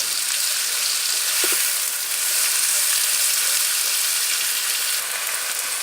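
Finely chopped onions, five or six medium ones, frying in hot ghee or cooking oil, giving a steady, loud, close hissing sizzle that carries on without a break.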